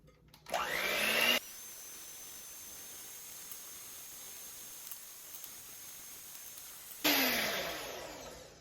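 An electric mixer whipping at medium speed for a sourdough angel food cake, a steady whirring drone sustained at one level, with louder bursts at the start and end, near and alone without speech.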